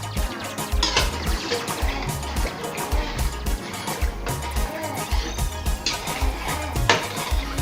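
Flour stew for chicken being mixed in a cooking pot, a steady clatter of a spoon scraping and knocking against the metal with wet stirring sounds, close and continuous.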